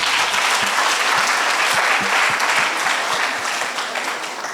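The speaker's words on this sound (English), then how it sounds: "Please give them a round of applause." Full crowd applause at a school debate between Limuru Girls and Kiaguthu Boys, dense clapping with a few sharp, distinct claps standing out, easing slightly toward the end.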